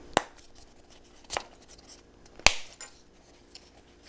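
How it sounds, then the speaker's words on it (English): The plastic casing of a Dodge, Chrysler, Jeep or RAM key fob snaps together around its edge, heard as three sharp, close clicks spaced about a second apart in a quiet room. "we just need to click this into place all the way around the outer edge"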